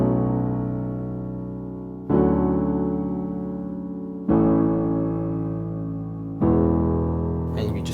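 Piano playing chorus chords, four sustained block chords struck one after another at even intervals, each ringing and slowly decaying, close and alone without talk.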